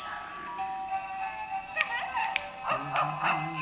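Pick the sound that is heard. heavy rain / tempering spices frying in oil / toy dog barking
toy dog barking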